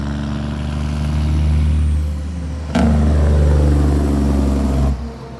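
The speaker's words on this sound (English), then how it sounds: "Here he comes. See if he gives you a shot of his Jake brake going by." A gravel-hauling truck rolls past on a rural road, its diesel engine rumbling loud and close, swelling as it nears, then a sharp burst of engine braking before it fades away.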